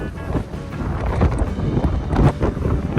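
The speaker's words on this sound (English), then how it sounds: "can't even hold the camera right now, it's so windy." Strong gusts batter a microphone outdoors by a park overlooking a bridge, a loud, rumbling, buffeting roar that surges and eases throughout with no voices.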